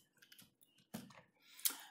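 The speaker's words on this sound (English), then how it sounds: "right click on it and click on duplicate" Several quiet, sharp computer mouse clicks come in a short irregular burst as a right-click and menu selection are made while working in Inkscape, close and isolated with no talk.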